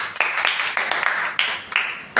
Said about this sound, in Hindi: ताली बजाएंगे सब जन।